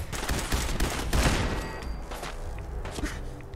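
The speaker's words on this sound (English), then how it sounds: "Could you guys stop shooting me?" Dense game gunfire from a Fallout 4 VR firefight: rapid overlapping shots and bursts, loud and close, sustained across the whole stretch with occasional heavier thumps.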